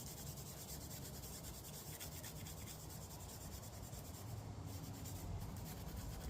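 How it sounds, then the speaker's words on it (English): Steady abrasive rubbing as a gentle Scotch-Brite pad scrubs the cylinder head of a Cub Cadet Intellipower engine, a continuous close scratchy friction sound with no pauses and no talking. "I just like to use like a Scotch-Brite, just a gentle one, just to tidy the rest of the head up"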